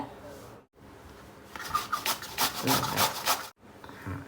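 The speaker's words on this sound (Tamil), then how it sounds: "இந்த மாதிரி கிரேட்டரில் நீங்கள் சீவி எடுத்துக்கலாம்." Bottle gourd rubbed across a hand grater produces a quick run of rhythmic rasping strokes, close and moderately loud, framed by brief pauses.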